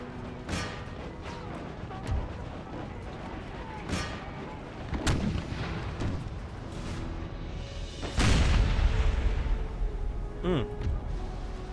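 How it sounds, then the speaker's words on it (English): Cannon fire in an Empire: Total War battle from the Brothers vs. Brothers mod, artillery blasting canister shot over a continuous din of gunfire, with several heavy booms and a loud burst near the end. "They're firing on my troops with canister shot, it looks like."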